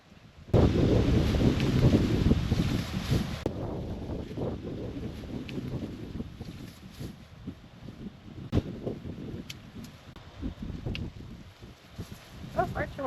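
Outdoor wind on a farm buffets the microphone in rough, low gusts, strongest at the start and then easing into uneven rushes, with faint voices in the background.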